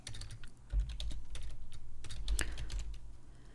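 Typing on a computer keyboard during database work: a quick, continuous run of light, close key taps with a few louder strokes, alone without speech.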